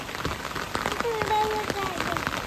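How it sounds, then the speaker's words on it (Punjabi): Heavy rain patters on a surface with dense broadband hiss, while a faint voice murmurs briefly in the background. "ਕਿੱਥੇ ਕਿੰਨਾ ਮੀਂਹ"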